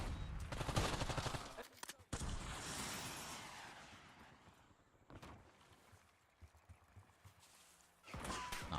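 Enemy sniper rifle fire in a Call of Duty match, sharp cracks and bursts of shooting amid gunfire rumble, loud at first, then fading into quieter background battle noise before another burst.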